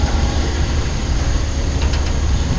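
Long Island Rail Road DM30AC diesel-electric locomotive pushing from the rear of a train on the Port Jefferson Branch, a loud steady rumble of wheels and engine with faint track clatter and no talk.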